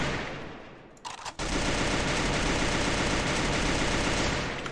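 Gunfire in the mobile battle game Free Fire: after a brief lull, a sudden loud burst turns into continuous rapid automatic shots that hold steady to the end.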